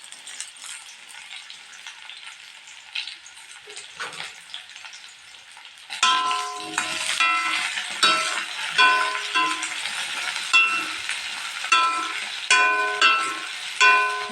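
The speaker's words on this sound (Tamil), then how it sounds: "இப்போ 1/4 கிலோ வெண்டைக்காவை அந்த எண்ணெயில் போட்டு நல்லா வதக்கிக்கலாங்க." Quarter kilo of okra (lady's finger) dropped into hot oil for a tamarind curry, starting as a soft hiss before erupting into loud, dense crackling sizzle with bursts of popping and spoon stirring, no voices.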